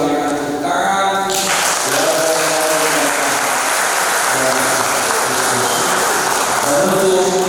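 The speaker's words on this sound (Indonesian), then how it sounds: "Mari kita sambut dengan tepuk tangan." Guests clap steadily in a church during a wedding blessing, a sustained wash of applause that follows a brief spoken moment and continues with faint voices beneath.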